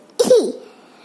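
A single short, sharp cough close to the microphone, one burst that fades quickly into a quiet room with no talking around it.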